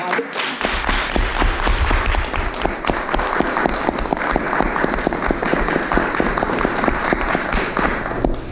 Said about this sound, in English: So I definitely think that should be applauded.